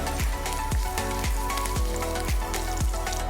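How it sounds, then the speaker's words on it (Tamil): Dry red chillies and curry leaves fry in hot oil with a steady crackling sizzle, punctuated by regular low thumps at a moderate pace, close and clear. "நல்லா பொரியிற சத்தம் வருதுல"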